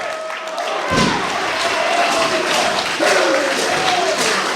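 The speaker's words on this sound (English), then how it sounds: "The crowd going absolutely crazy for the pounce." Crowd at an independent wrestling show roaring and cheering after a pounce, a loud dense din with a heavy thud from the ring near the start and excited commentary running over it.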